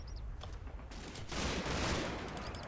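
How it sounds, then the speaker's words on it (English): MG42 machine gun fire in the Combat Mission: Battle for Normandy video game, a sustained rapid burst of gunfire rising in loudness midway, heard alone without talk. "we're getting a bit of MG42 fire on those guys there too"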